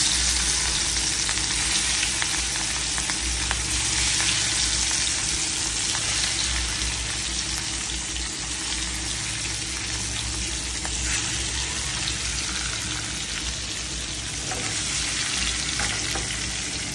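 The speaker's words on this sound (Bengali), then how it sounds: "এখানে মাছ ভাজার জন্য তেল ঢেলে দিলাম" Rohu fish frying in hot oil in a home kitchen pan, a steady dense sizzle and crackle that runs unbroken and fairly loud throughout, with no voices.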